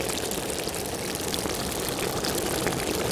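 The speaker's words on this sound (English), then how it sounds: "dipping it in the water to get that sort of crackle to the water without the cartoonish bubbles" Microphone dipped in water gives a continuous fine crackling, trickling wash like a small peaceful creek, steady and close with no voices.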